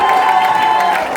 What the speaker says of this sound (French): On va applaudir aussi l'équipe d'installation et de rangement.